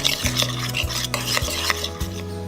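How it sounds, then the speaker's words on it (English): A utensil scrapes and stirs briskly around a bowl, mixing a dressing of sherry vinegar. The close, rhythmic swirling repeats with faint clinks and no voices. "I'm just going to stir those very thoroughly together to combine them"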